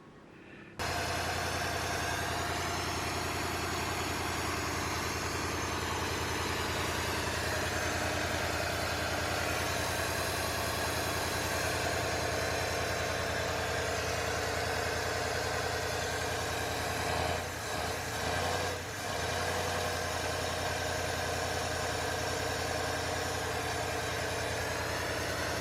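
A 1953 Ford flathead V8, running on a 6-volt coil and battery, idles steadily with a constant low rumble and even mechanical hum that continues close and loud throughout.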